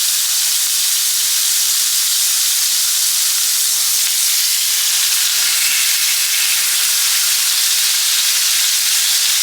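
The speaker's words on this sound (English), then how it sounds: "And here are my steaks. We're looking for a sear on both sides, 1 to 2 minutes." Porterhouse steaks sear in a hot pan, giving a steady, even sizzle and hiss that holds at a constant level throughout, with no one talking.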